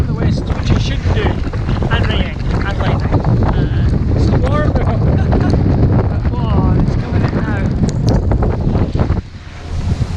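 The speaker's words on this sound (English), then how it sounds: "This is a westerly wind, which it shouldn't be." A strong westerly wind roars steadily across a sailboat at sea, buffeting the microphone with dense, unbroken rushing noise and water sounds, while someone talks over it nearly the whole time.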